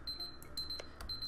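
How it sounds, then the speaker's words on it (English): Quiet electronic timer beeping in a repeating pattern of high, thin tones with small clicks between them, faint and alone. "Oh, that's our timer though."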